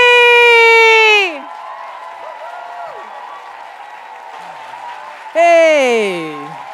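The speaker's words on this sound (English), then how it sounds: "And I want you to give a big applause for the fabulous Faris, Cuchi!" Audience applause and cheering for a stage act at a live show, a loud burst at the start that drops to a lower sustained crowd wash, then swells again with whoops near the end.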